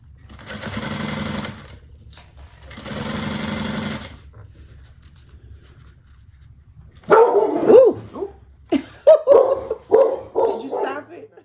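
A sewing machine runs in two loud bursts of stitching separated by a pause; then a dog startled by a delivery at the door barks repeatedly and sharply at close range in a quick series.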